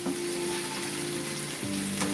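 Mushroom, carrot and sweet peppers sautéing in a pan for a vegan chickpea stew, giving a steady, close sizzle and crackle of frying with a faint background hum, no talking.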